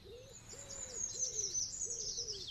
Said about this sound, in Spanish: un mochuelo alpino aprovecha los huecos creados por los pájaros carpinteros para hacer su nido